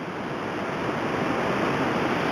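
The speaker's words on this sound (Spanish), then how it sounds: "Mira qué cascada." A waterfall swollen with abundant water at the Faedo de Ciñera beech forest near La Pola de Gordón, León, roars as a steady, dense broadband rush, close and continuous throughout with no voices.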